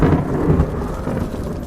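Thunder rumbling during a lightning storm, a loud low roll up close with rain hiss underneath.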